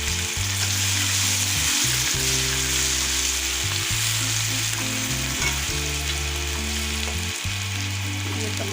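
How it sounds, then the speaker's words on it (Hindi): Garlic ginger paste sizzles steadily in a pan of golden fried onions, a loud continuous frying hiss with occasional stirring scrapes and no talk over it. "अब मैं लहसुन अदरक का पेस्ट डाल रही हूँ।"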